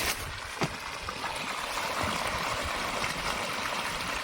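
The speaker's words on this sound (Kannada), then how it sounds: "ನೀರು ನೋಡಿ ಸರ್ ಹೆಂಗೆ ಬೀಳ್ತಾ ಇದೆ" Water from two borewells pours into a farm pond on an areca farm near Mysore, a steady close rushing and splashing flow that continues without a break.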